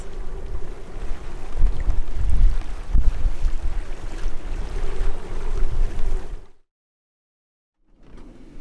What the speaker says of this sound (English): we're at anchor, everything should be good, but it's super windy